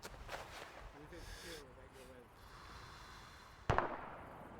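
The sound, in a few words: gunfire in a military game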